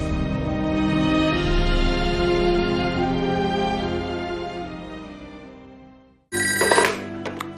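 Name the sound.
telephone ringing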